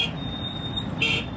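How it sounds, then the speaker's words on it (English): Two short car horn toots sound at the start and near the end over a low rumble of city traffic with taxis and tour buses in South Africa. "Horns honking everywhere."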